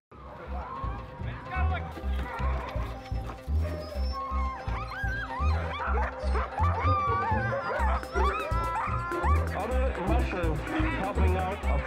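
Sled dogs barking and yipping excitedly at the Northern Pines Sled Dog Race in Iron River, Wisconsin, a busy chorus of close barks over a steady rhythmic pulse, with a voice talking throughout.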